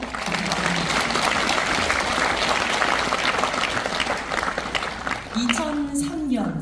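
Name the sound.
audience applause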